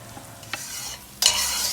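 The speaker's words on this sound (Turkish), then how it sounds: "Doğradığım bir baş soğanı tencerede az yağda kavuruyorum." A spoon scrapes and stirs quietly in a pot, then a loud, steady sizzle of chopped onion frying in a little hot oil starts up and continues.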